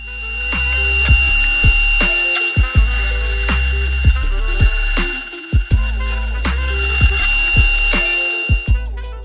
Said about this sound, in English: This is the band sawing of the Benchdog strip.